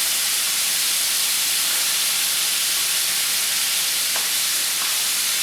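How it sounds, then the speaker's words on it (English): Shrimp cook in a hot pan, giving a steady, even sizzle and hiss throughout, with a couple of faint clicks near the end and no talking. "We're going to cook these shrimp until they start turning pink on the bottom and or around the sides"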